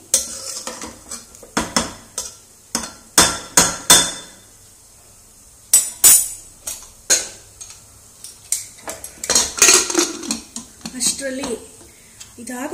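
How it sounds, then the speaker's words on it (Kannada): Pots, a cooker lid and metal utensils clatter and knock in a home kitchen during cooking, a run of sharp irregular clanks and taps with short quiet gaps, fairly close and loud, with a few faint voice sounds between. "ಇವಾಗ ಲಿಡ್ ಕ್ಲೋಸ್ ಮಾಡ್ತೀನಿ."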